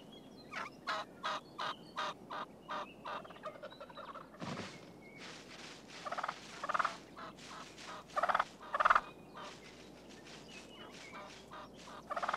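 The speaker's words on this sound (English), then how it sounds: "The Rio Grande turkey lives from northern Mexico up through Texas and Oklahoma." A Rio Grande wild turkey gobbles in bursts of rapid, rattling calls, with pauses between them and the loudest calls near the end, heard alone with no talk.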